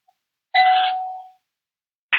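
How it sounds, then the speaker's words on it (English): A doorbell sounds in an otherwise silent room: one clear electronic chime that rings for most of a second and fades out, then a second chime starts and is cut short at the end. "the bell is ringing"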